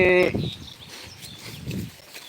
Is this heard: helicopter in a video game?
no